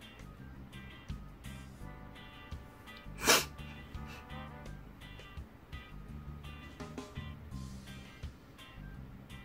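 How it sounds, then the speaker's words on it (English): A single sharp, wet sniff bursts out once against a quiet, humming background, close to the listener and much louder than anything around it. "kind of sniffling here."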